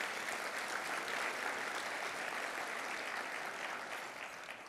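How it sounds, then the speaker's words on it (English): An audience applauds teachers at a political speaking event, a steady, dense wash of clapping that holds even and loud throughout, then begins to taper slightly near the end. "How about a round of applause for teachers in this state?"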